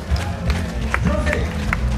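Spectators applaud and cheer runners at the Diagonale des Fous trail race on Réunion, a loud mixed crowd clapping under nearby voices and shouts throughout.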